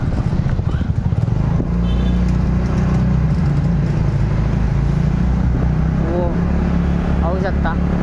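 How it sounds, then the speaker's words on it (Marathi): Several vehicles pulling away on a road near Marathepada, engines rumbling and idling close by with a clattering rhythm, while people talk throughout and a few short chirps break through. "हे बघ गाड्या सगळ्या निघाल्यात."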